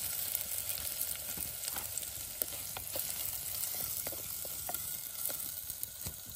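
Onion and green chili frying in a pan for jowar poha upma, a steady close sizzle with scattered sharp crackles and pops and no talking.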